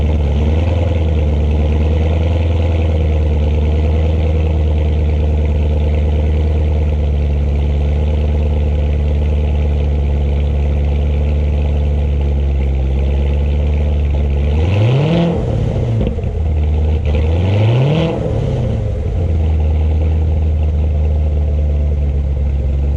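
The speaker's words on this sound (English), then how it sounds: "I'll do a little cold start so you can hear the beauty of his exhaust." A car idles loud and close with a deep, steady exhaust rumble after a cold start, then two sharp revs swell and fall back to idle.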